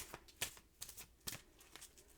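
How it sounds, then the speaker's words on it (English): Several crisp, papery riffles of oracle cards being shuffled, coming in short irregular bursts close by, fairly soft overall. "I'm going to shuffle and deal you an Angel Oracle card."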